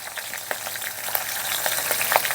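Black cumin seeds, green chillies slit down the middle and garlic cloves sizzling in hot oil as a tempering, with a steady loud crackle and frequent sharp spits and pops, no voices.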